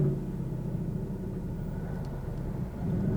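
A 2024 Lincoln Nautilus backs itself up under park assist, giving a steady low engine and road rumble that holds even throughout, close by, with no talk.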